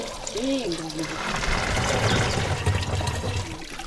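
Fresh water pours steadily from a borehole-fed village source in rural Rwanda, a continuous close splashing rush with voices in the background.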